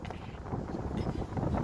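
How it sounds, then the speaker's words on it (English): Wind buffets the microphone in a steady, rough gust, loud and close throughout, while walking by a river in New York City. "Very windy."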